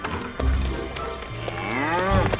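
Sheep bleating in an animated Superbook cartoon, a small lamb's cry rising and falling in a drawn-out call over a low background score, close and fairly loud.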